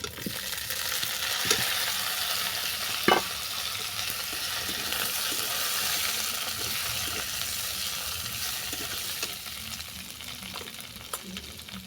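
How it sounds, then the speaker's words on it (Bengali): Sukto vegetables tossed into a pan after ginger has been fried, giving a loud, steady sizzle and hiss with occasional stirring scrapes, close by and continuous. "আদা ভালো করে ভেজে নেওয়ার পর দিয়ে দিচ্ছি শুক্তোর সবজি"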